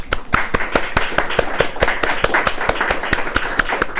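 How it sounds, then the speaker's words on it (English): A small audience at a public grant transparency session claps for the attendees, sharp individual claps standing out in a quick uneven rhythm, close and fairly loud, with no talk over it. "I do want a round of applause for all of you for showing up"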